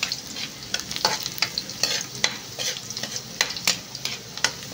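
Garlic frying in oil until brown, a steady crackling sizzle broken by repeated sharp scrapes and taps of stirring, close and fairly loud with no talking.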